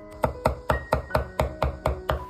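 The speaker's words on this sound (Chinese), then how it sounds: "一小把大蒜拍扁切碎" A knife chops crushed garlic on a cutting board in about nine steady, evenly spaced strokes. The taps are close and crisp, with no talking, as prep for a cold noodle dish.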